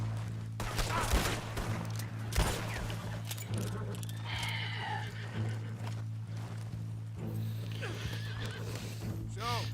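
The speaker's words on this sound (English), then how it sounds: "The group horse riding in this game, man." Several horses gallop with steady hoofbeats during a group ride in Red Dead Redemption 2. A horse neighs, and character voices speak over the running horses.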